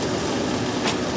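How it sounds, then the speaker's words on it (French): Old American-style diesel locomotive in the Dominican Republic, its low heavy engine rumble steady and close, with a brief hiss near the end. "Ça, c'est de la bonne grosse loco américaine à l'ancienne"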